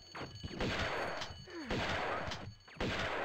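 Enemy gunfire in Tomb Raider II, sharp repeated shots in a few bursts spread across the moment, each followed by brief decay and game ambience.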